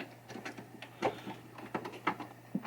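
Screws being tightened on a 1994 Bally World Cup Soccer pinball machine: a series of short, close clicks and scraping turns in an irregular rhythm over a steady low hum, with no talk.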